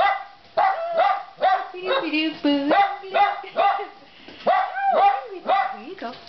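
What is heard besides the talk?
small dog barking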